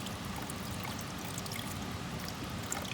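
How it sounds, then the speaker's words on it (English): A tiny waterfall pours steadily into a water bag outdoors, giving a continuous close, dense splashing rush with no pauses. "There's like a tiny little waterfall that you can actually fill up here."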